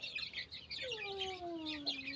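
A yellow rooster calls out with a single long, drawn-out rising-then-falling note over a steady bed of high chirping birds nearby, with no talking.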